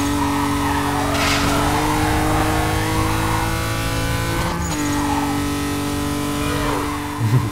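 A Renault Clio V6 in the Need for Speed Carbon racing game holds a loud, steady engine drone with a brief gear change midway and a faint tire squeal.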